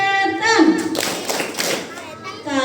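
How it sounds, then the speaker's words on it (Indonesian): Children clap the rhythmic 'anti-devil' hand clap at a lively Isra' Mi'raj religious lesson, sharp hand claps mixed with a woman's and kids' voices chanting and talking over them, close and loud throughout. "Ustazah punya tepuk anti setan"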